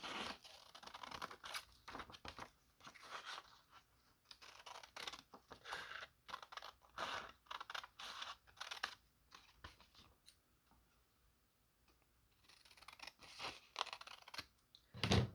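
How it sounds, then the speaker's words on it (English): Scissors cut a triangle out of paper for a junk journal, giving quiet, close, rapid snipping and rustling in bursts, with a pause before the cutting resumes. "So I'm going to cut out a triangle."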